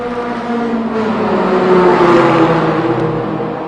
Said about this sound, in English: cars in flight right in front of me here on the main straightaway